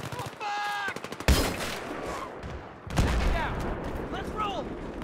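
Troops shooting in the video game Battlefield 3, a rapid string of gunshots followed by sharp loud bursts, with game voices in between.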